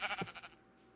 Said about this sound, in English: Let's slaughter some sheep real quick.